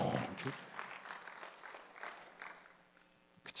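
A congregation at a Korean Sunday church service gives faint, scattered applause under a speaking voice, rising in a brief louder burst at the very end.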